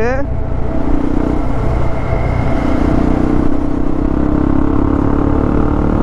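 A motorcycle speeding along a road past lorries, a loud, continuous engine roar mixed with rushing wind, while a voice talks over it throughout.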